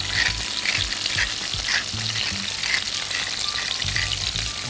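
Sliced peppers frying in a pan, a continuous close, crackling sizzle with soft low knocks of utensil stirring scattered throughout, no one speaking.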